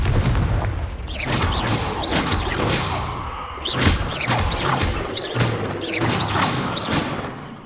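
Spell blasts in Hogwarts Legacy burst repeatedly, smashing vases with booming explosive cracks and shattering debris, several heavy impacts in quick succession, loud and close.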